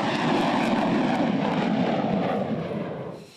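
An F-35 Lightning II stealth fighter jet flies by with a loud, sustained roar that holds steady before fading away at the end.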